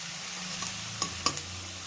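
Onions frying in a pan, a steady close sizzle with a few sharp stirring clinks over nearly two seconds.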